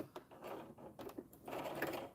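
Short bursts of a sewing machine stitching fleece, its rapid mechanical whir starting and stopping several times, close and moderately loud.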